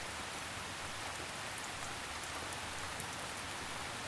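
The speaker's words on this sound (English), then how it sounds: "The canopy above filters the rain," Steady rain falls through a forest canopy, a soft even hiss of countless droplets on leaves, continuous and fairly quiet with no voices.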